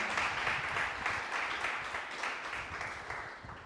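A church congregation applauds in a sustained, dense wash of clapping that fills the space, steady at first and slowly tapering toward the end, with no clear speech over it.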